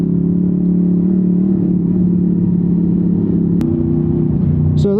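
Honda VFR800 motorcycle engine with the throttle held open, a loud, close, sustained revving drone that holds steady and then climbs in pitch near the end.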